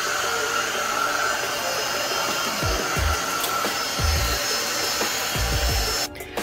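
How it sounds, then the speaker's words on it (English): A Belife cordless vacuum cleaner runs steadily over a home floor, giving a constant whirring hiss throughout. A few low thumps are heard as it moves, and it cuts off near the end. "Now, this vacuum cleaner can be used on any hard floor or short pile carpet."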